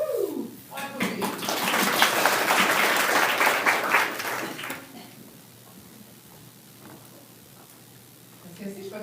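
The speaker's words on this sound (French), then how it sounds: "On applaudit." A conference audience breaks into applause after a talk, a loud burst of many hands clapping for several seconds that fades away, followed by a quieter room with a speaker's voice resuming.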